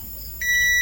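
A multimeter's continuity buzzer sounds while probing a short circuit on a 12V amplifier under repair: a steady, loud, high electronic tone kicks in abruptly partway through and holds to the end.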